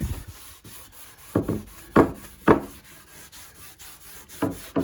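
Wood stain being rubbed into a board by hand, a series of short close scuffing strokes in an uneven rhythm with quiet gaps between them.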